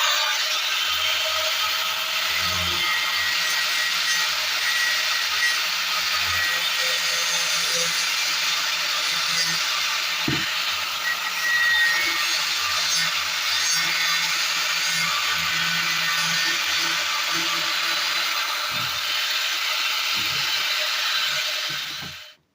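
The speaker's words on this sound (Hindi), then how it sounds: "तो कटिंग करने के लिए मैं तो ग्राइंडर का इस्तेमाल करने लगा हूँ।" An angle grinder cuts through a 3-inch PVC pipe with a steady, loud, harsh whine that holds for about twenty seconds before stopping abruptly, with no talking.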